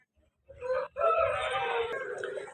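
A rooster crows loudly and close by at a Sunday rooster market in Vijayawada, a short first call followed by a long, sustained crow that trails off.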